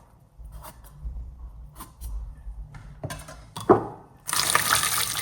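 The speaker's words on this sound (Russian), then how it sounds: "Потом заливаем кипятком и оставляем, чтобы удобно было снимать шкурку." Boiling water is poured over medium tomatoes in a bowl, starting with faint trickles and splashes, then a louder, steady gush of filling near the end.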